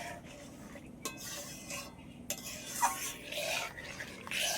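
A utensil stirs agar agar powder into milk in a pot, giving a soft, continuous scraping swirl with occasional light clinks against the metal, fairly quiet and close.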